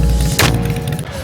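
A 1964 Impala lowrider drops on its hydraulics at a Las Vegas car show, a single sharp, loud clunk over a low rumble of engines and crowd.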